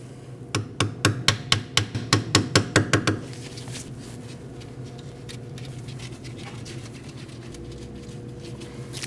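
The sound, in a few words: tapping ABS sensor into its hole on Jeep Cherokee knuckle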